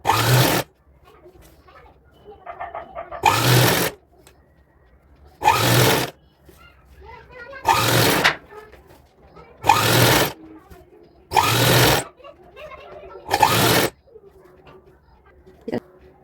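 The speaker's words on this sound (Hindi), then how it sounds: "इस तरह से हमने इसमें सिलाई इस तरह से लगा ली है" An electric sewing machine stitches a belt onto a little girl's designer outfit in seven loud, separate bursts of a few seconds each, with quiet pauses and soft handling noises between.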